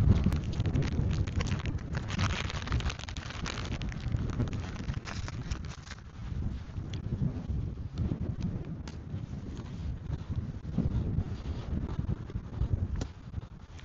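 Strong wind blowing across open hills at Dilasag, Aurora, a rough continuous buffeting rumble against the microphone with crackling bursts, loud and close with no talking.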